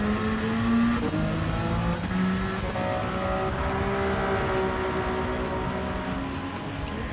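A Lamborghini race car at high revs in Gran Turismo 7, a loud continuous engine drone whose pitch climbs and shifts through gear changes, heard alone with no talking.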